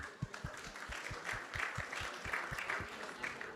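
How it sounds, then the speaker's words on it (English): Steady applause from an audience at a Krishna Katha talk, a dense wash of clapping holding at an even level with faint voices underneath. "So let's give them a big round of applause."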